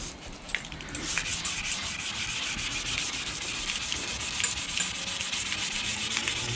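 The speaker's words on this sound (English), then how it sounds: "just give it a quick uh, scuff" An original GM grille off a Suburban or Yukon is scuffed by hand before painting, giving a quiet, steady abrasive rubbing with slight rhythmic strokes and no speech.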